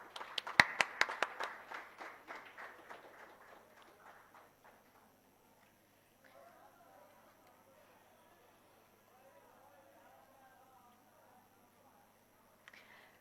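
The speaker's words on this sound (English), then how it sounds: "Please give a huge round of applause." A brief burst of clapping from a small group, sharp at first and quickly thinning out, followed by quiet talking in the background.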